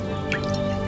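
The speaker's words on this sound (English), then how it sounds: "Get a phial and pour it in." A short wet trickle and drip as brewed potion is poured from a cauldron into a glass phial in the medieval game Kingdom Come: Deliverance II, heard over a steady game ambience.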